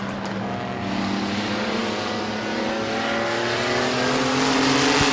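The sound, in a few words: mini trucks racing in a speedway heat race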